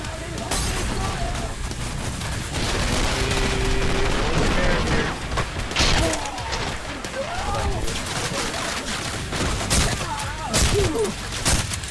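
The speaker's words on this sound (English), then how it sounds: "Those are terrible shots out of me." Gunfire in the shooter Trepang2 at Jorvik Castle: dense, continuous bursts of shots and fusillades over the full stretch, mixed with game sound and chatter.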